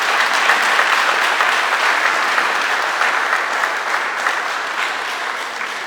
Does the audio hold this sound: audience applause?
yes